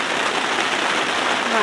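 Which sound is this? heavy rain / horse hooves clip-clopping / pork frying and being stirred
heavy rain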